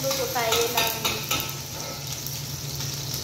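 Mixed vegetables stir-fry in a pan for a home-cooked lunch, with a soft continuous sizzle under scraping and clinking of a utensil against the pan, fading to a quieter hiss.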